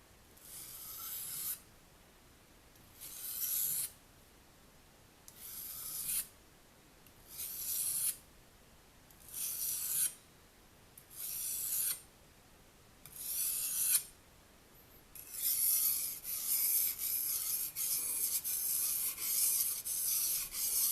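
A knife blade is sharpened in repeated rasping strokes, about eight evenly spaced bursts, followed by a longer run of quicker continuous scraping, close and fairly quiet.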